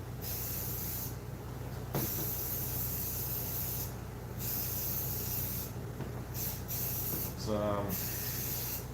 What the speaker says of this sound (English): I'm spray painting it right now.